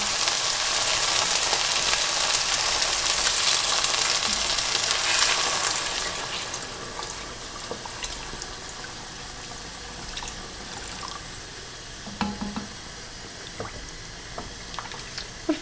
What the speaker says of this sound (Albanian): ja shtojmë ujin